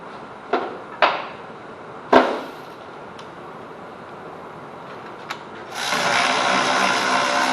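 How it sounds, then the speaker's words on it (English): A power tool backs out the bolts on a Ford Taurus rear brake caliper bracket: a few sharp clicks and clanks first, then a steady mechanical whir near the end. "just taking those 2 bolts out."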